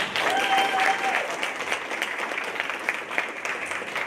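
An audience at a Social Justice Day speech event claps for a speaker, with steady, fairly loud applause throughout and a little crowd murmur mixed in.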